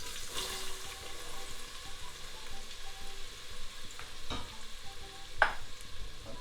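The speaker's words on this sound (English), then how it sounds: "So we start with first putting only half the onions in here." Onions frying in a ladleful of oil in a pot give a steady low crackle and sizzle, with faint scraping stirs and a sharper clink near the end; no one speaks.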